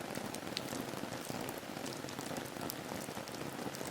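Rain falling on a rainy night, a soft, steady patter of drops on surfaces, even and unbroken throughout with no talk.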